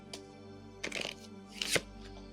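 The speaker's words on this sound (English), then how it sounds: "So if I pull a card in reverse, I'm going to turn that over like I always do." A tarot card is drawn from the deck and flipped over, producing two faint, soft papery slides and a small tap in quiet surroundings.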